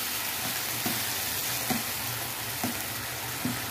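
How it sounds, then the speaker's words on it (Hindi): Tomato puree with fried onions cooks in a pan, giving a dense, constant sizzle with a few soft stirring knocks spaced about a second apart. It is close and steady, with no voices. "अब हम इसमें डाल देते हैं जो हमने टमाटर की प्यूरी बनाई है, वो डाल देते हैं इसमें और इसको मिक्स कर देते हैं अच्छे से"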